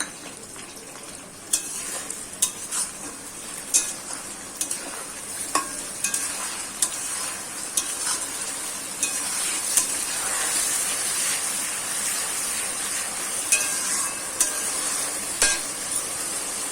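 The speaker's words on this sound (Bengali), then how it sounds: "পেঁয়াজ বাটাটা একটু ভেজে নিই" Onion paste fries in a pan for a mutton kosha, a steady sizzle broken by repeated scraping and clinking as a utensil stirs it against the metal, close up and without talk.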